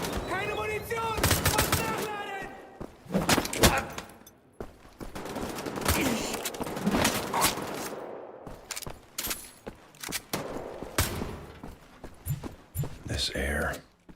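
Pistol and other gunfire in the Wolfenstein: The Old Blood video game cracks out in repeated sharp bursts over about fourteen seconds, mixed with game voices and talk, with loud clusters and quieter gaps.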